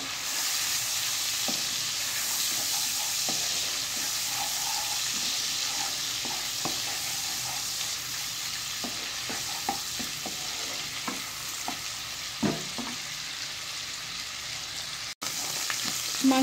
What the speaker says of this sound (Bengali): একটু ভাজা ভাজা করতে হবে।